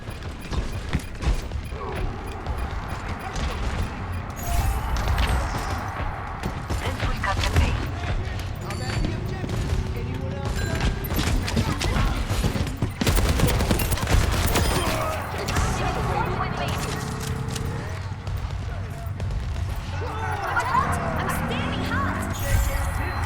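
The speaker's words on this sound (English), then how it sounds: "Watch out for that turret." Turret gunfire in the video game Overwatch 2: rapid bursts of automatic shots and mechanical clanks over a dense, continuous mix of game effects, loud throughout.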